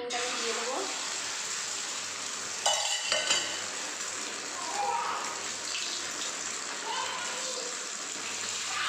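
An egg frying in a generous amount of oil in a pan for egg rolls gives a steady, close broadband sizzle throughout, with a brief louder clatter near the middle.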